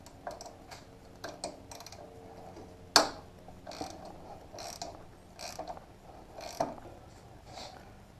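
Socket ratchet with a 14mm socket clicking away at the two foot peg bolts on a motorcycle during exhaust installation, a run of quick pawl clicks with brief pauses, close and fairly quiet, with a sharp metallic clank partway through.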